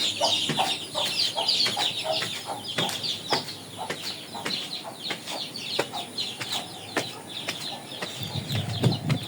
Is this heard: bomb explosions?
no